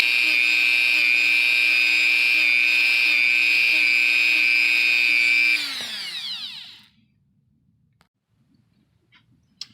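A Dremel rotary tool sands foam for a cosplay mask with a steady high-pitched whine, then spins down and falls silent, leaving a few faint clicks.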